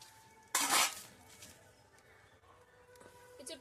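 Pieces of raw jackfruit dropped into water in a cooking pot give one sharp splash, followed by quiet, scattered clinks of the pot and utensils.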